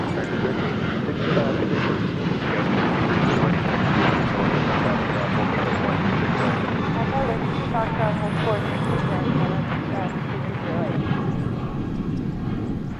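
A heavy jet plane approaching DFW airport produces a steady, loud, rumbling roar that continues throughout, with people talking over the engine noise.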